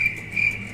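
A steady, shrill cricket chirp pulses as a sound effect, a continuous high trill over a soft, low background murmur.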